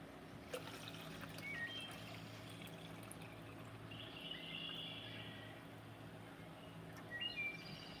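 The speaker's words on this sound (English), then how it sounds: "let me pour up some water" Water pours in a thin trickle and dribble, quiet and close, with faint bird chirps in the background and a low hum underneath.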